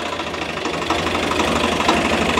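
An old tractor engine runs steadily with its hydraulic loader bucket attached, giving a continuous, loud, close-up knocking rumble throughout.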